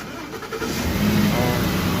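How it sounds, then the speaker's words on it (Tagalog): A 2013 Ford Expedition engine, just fitted with a new fuel pump and pump module, catches and runs with a steady, loud mid-pitched rumble that builds slightly after starting, heard close up with no talking. "after replacing fuel pump and fuel pump module, we will start the engine"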